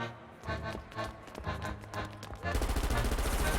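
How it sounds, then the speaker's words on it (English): Machine-gun fire from the Professor Layton and the Unwound Future video game rattles in loud, rapid bursts over a dense soundtrack, swelling into a heavier, continuous barrage toward the end. "What? Machine guns?"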